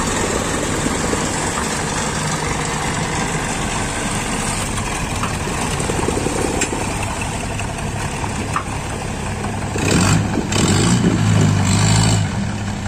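An Isuzu 98 engine fitted to a shrimp-tail long-shaft drive on a boat runs steadily at idle, close and loud, then revs up briefly near the end before settling again.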